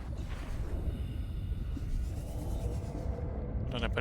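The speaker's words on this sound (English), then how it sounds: "Thunderstorm, okay." Thunderstorm rumbles in the video game Subnautica Below Zero, a deep continuous low roar with faint whooshing layers, steady and fairly loud across the whole stretch.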